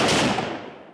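A single loud burst of gunfire from special forces commandos firing while advancing, a sharp crack that rings out and decays within a second.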